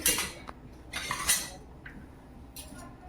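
A metal wok clanks and scrapes against a gas stove in a few short, sharp knocks, fairly quiet with pauses between.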